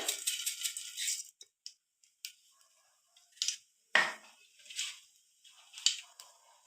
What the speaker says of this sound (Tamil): எண்ணெய் ஹீட் ஆன அப்புறம் கடுகு